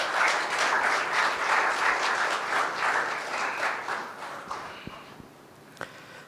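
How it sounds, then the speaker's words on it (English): An audience gives a big round of applause for Sister Vasantha at a tribute gathering; dense clapping holds strong, then thins and fades to scattered claps and taps. "A big round of applause for Sister Vasantha,"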